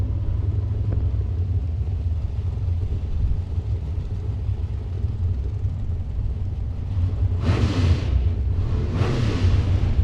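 A Lance Automotive Cavalier door slammer drag car roars down a drag strip, heard as a steady, distant low rumble with two louder bursts near the end.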